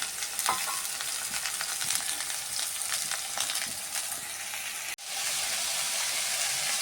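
Constant hissing sizzle of onions frying with chopped potato and eggplant in a pan, close and even, with a momentary break before the sizzle resumes.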